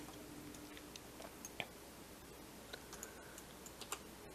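Keys clacking in irregular taps on a computer keyboard while entering a search in a game level editor, quiet and close with a faint room hum and no talk.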